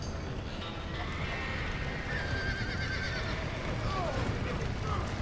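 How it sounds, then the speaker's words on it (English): Horses whinnying in the Red Dead Redemption video game, with a few drawn-out neighs rising over a steady, busy wash of game ambience and a loose patter of hooves, while a person talks throughout. "Get up here and hopefully get by the horses."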